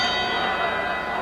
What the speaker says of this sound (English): The bell for second round action here in the Providence Civic Center.